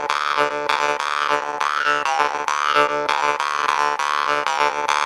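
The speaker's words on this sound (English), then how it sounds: "It gives a cool growling, warbling effect to the jaw harp." A jaw harp twangs continuously with a warbling, vowel-shifting tone while a rough, snoring growl technique rides over it, steady and close for several seconds.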